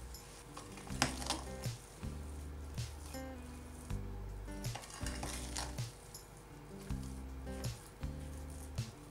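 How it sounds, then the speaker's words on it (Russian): A spoon stirring sugar into a thick cake batter in a bowl, soft squelching strokes in a steady repeating rhythm with light scrapes, close and faint, no talking. "Хорошо все перемешиваем, чтобы сахар равномерно распределился"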